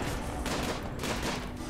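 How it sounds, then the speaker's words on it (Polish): Video-game gunfire in RimWorld sounds as a dense, steady crackle of rapid shots under constant noise, fairly quiet and continuous throughout. "To jest ostatnie parę strzałów."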